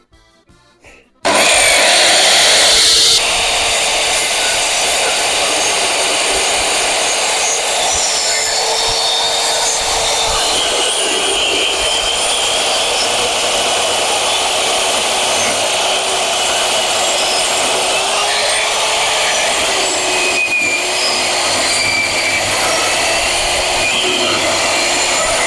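A power saw cuts wooden rafters for a home workshop under construction. It starts abruptly and runs loud and close as a sustained whining drone for over twenty seconds, with slight shifts in pitch as the blade works through the wood.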